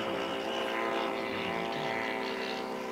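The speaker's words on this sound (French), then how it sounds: "Deux avions volent à peu près à la même vitesse." Two model airplanes fly together at an aeromodelling meeting in Saint-Macaire, giving a steady, buzzing propeller-engine drone that holds at a constant level throughout, with no voices.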